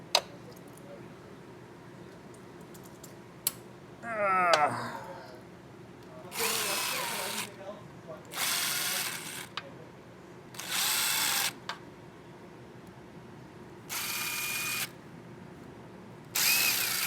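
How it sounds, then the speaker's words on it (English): Electric power tool spinning out cam tower bolts on a 2024 Kawasaki ZX-6R 636 during a valve adjustment, several short loud whirring bursts separated by pauses, with a ratcheting rattle early on. "I'll use the electric tools to get them the rest of the way out"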